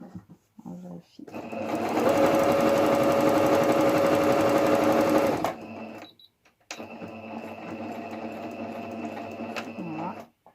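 Domestic sewing machine stitching two layers of fabric for a cloth face mask, running in a steady rapid whir for several seconds, pausing, then running again at a slightly lower pitch.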